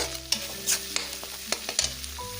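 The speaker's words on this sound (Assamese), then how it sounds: "সেইখিনি মই কেঁচা গোন্ধটো যোৱালৈকে ভাজিম।" Spices sizzle in a hot pan for matar paneer with a steady hiss, broken by repeated scraping strokes of a spoon stirring them close up.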